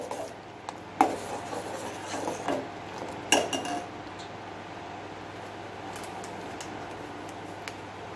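A utensil scrapes and clinks against a pan while caramel pudding mixture is stirred, two sharp knocks standing out early, followed by a steady soft rasping scrape that continues quietly.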